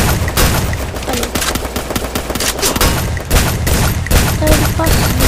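M60 machine gun fire in the Free Fire battle video game, loud, dense rapid bursts of shots crackling in quick succession throughout, with short breaks between volleys.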